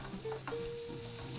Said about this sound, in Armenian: հիմա սխտորը ավելացնելուց հետո պետք է տապակեմ ընդամենը մի քանի վայրկյան, երևի 10 վայրկյան, եւ այդ ընթացքում անընդհատ խառնում եմ